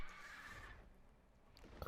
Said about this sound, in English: No, my horse is out there.